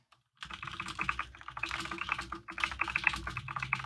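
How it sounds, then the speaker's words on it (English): Steady clicking on a computer keyboard, close and fairly quiet, with rapid irregular keystrokes running continuously after a brief silence at the start. "Oh, there's that keyboard."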